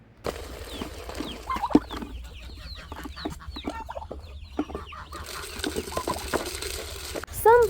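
Backyard chickens and turkeys clucking and chattering while being fed on a homestead, a busy mix of soft clucks and short calls close by, with a louder squawk at the end.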